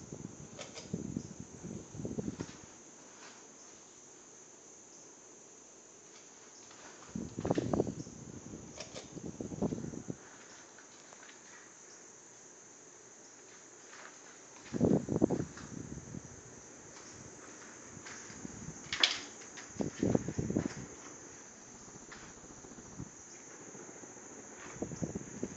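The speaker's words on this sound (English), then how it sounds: "This is my 52-inch polished brass Hunter Passport 2 ceiling fan." A 52-inch polished brass Hunter Passport II ceiling fan runs with a steady high whine and soft airy hum. Bursts of rustling or handling noise come and go over it.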